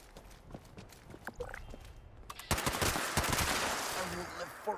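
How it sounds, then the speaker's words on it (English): Gunfire in the video game Fallout 76 starts as scattered single shots and then becomes a loud, dense burst of rapid fire that lasts to the end. "The gunfire."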